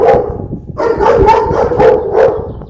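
A house dog barks repeatedly at someone pushing advertising leaflets through the outdoor letterbox, a burst of close, loud barks in an irregular rhythm with no talking.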